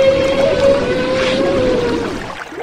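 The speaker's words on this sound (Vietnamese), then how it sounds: "Bạn hãy nghe một đoạn bài hát của tôi nha." Whale song, a long sustained tonal moan holding a steady pitch over watery ocean ambience, fading toward the end.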